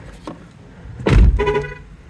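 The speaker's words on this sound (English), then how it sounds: "it beeps at you because it thinks I left the keys in the car" A 2023 Chevy Malibu rental with push-button start sounds a reminder tone for keys left inside, a short, loud electronic beep from the dashboard with a fainter chime just before it, close by and with no talking over it.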